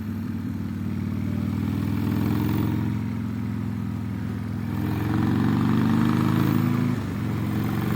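A 2006 Harley-Davidson Sportster 1200 on stock exhaust pipes rumbles close by in a loud, steady idle, its low throbbing engine note holding level with slight swells and a brief dip near the end.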